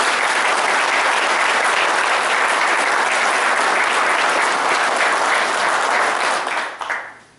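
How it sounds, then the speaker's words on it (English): Loud, sustained applause from a large audience at a Tea Party meeting, thick continuous clapping that holds steady for several seconds before tapering off quickly at the end. "I think he deserves a round of applause for that."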